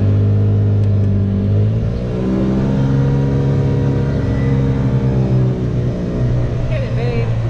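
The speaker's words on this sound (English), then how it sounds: "And we're gonna try the go-kart or whatever it's called." A go-kart engine at Cycle City runs and revs with a loud, close, continuous rumbling drone, its pitch rising and falling, while people talk over it.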